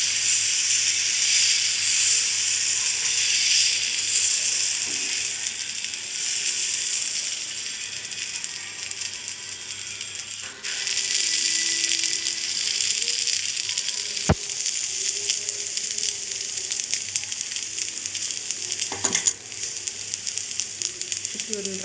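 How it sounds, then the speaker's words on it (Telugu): Egg dosa batter spread on a hot pan sizzles loudly and steadily, a bright close hiss running throughout with a few sharp clicks and scrapes, and a voice talks briefly over it. "మళ్ళీ ఇప్పుడు వచ్చేసి ఎగ్ దోశ వేస్తున్నాను ఫ్రెండ్స్"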